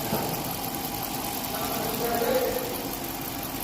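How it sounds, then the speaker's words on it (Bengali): A Dodge Charger SRT engine runs steadily at close range with a constant rumbling hum, and a voice is faintly audible under the noise. "তারপর ডজ গাড়ি এবার ইঞ্জিন লাগা দেবো।"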